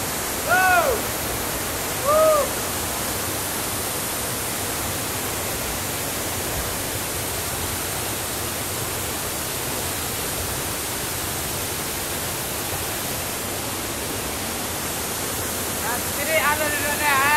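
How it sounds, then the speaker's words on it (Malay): The Salebaru waterfall roars as a steady, loud wash of broadband noise, with a few faint chirps or voices at the start and end. "air terjun Salebaru."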